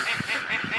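Sebastopol and Toulouse geese on a farm honk in close, repeated nasal calls, several overlapping honks in quick succession.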